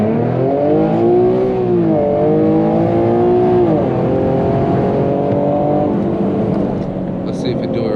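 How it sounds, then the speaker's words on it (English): Infiniti G37 engine revs loudly in clear rising and falling sweeps, heard from inside the car while driving, with a steady engine drone continuing afterward. "when it revs down, it'll be like vroom, vroom."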